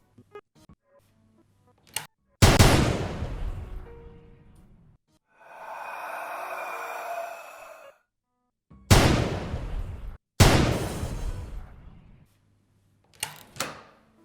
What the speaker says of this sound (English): Lots of gunshots.